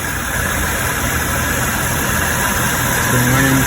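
A 2006 BMW 650i coupe with a 4.8L V8 idles steadily after an oil pressure switch replacement, a close, loud, even engine drone with a slight rise near the end and no talk.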